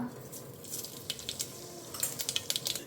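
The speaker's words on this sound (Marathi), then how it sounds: "सो आतां घालता सांसवां घालता" Mustard seeds crackle and pop in hot oil in a home kitchen pan, a faint continuous sizzle with scattered sharp spits growing livelier toward the end.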